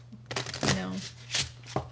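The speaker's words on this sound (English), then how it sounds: "I'm going to shuffle it" A deck of tarot cards gets shuffled in a few quick riffling bursts, close and fairly soft, with a voice speaking briefly in between.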